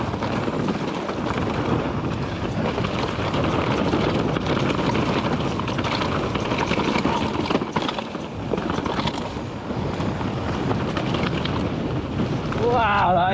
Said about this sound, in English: As soon as you come out of the trees, the wind is proper fierce and cold.